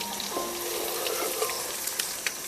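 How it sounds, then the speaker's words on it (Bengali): Crushed garlic, two large bulbs' worth, frying in hot oil in a home kitchen, a steady close crackling sizzle with scattered pops and spits, no talking. "তেলটা কিন্তু গরম হয়ে গেছে আর আমি এর মধ্যে দিয়ে দেব থেতো করা রসুন।"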